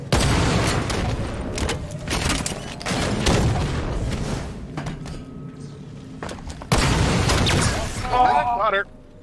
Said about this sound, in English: It's a rocket launcher, but you charge up the rocket launcher.